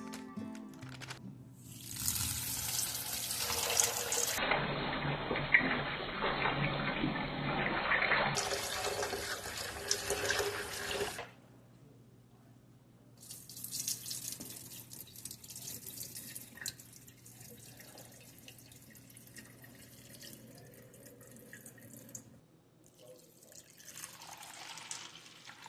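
Yellow split peas are rinsed under running tap water in a kitchen sink, a close, splashing stream that changes pitch and strength as the bowl fills and is tipped, with pauses and drips between rinses.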